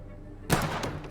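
A single sharp gunshot from a pistol in the vampire game Vampyr cracks out about halfway through, followed by a brief rumbling tail over quiet background.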